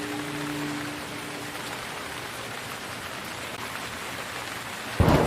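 Steady, dense rainfall hisses in the rain-soaked setting of the Gemini Rue adventure game, a continuous wash of drops with a faint low hum early on and a sharp burst at the end.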